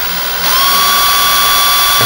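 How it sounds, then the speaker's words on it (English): Power drill making a pilot hole through a curtain rail end cap: a brief start, then a steady high-pitched whine that holds close and loud for a couple of seconds. "you'll need to pilot drill through the end cap,"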